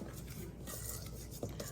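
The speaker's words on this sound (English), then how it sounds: "I'm gonna give everything a good stir, just to mix all the ingredients" Dry biscuit ingredients stirred in a bowl for chocolate digestives, a soft continuous scraping swirl under faint background hiss, with a couple of louder taps near the end.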